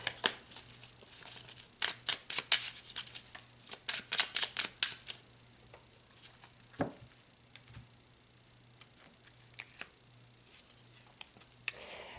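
Tarot cards handled at close range, a quick run of crisp riffling shuffle snaps and flicks early on, then quieter occasional single card slides and taps over a faint steady hum.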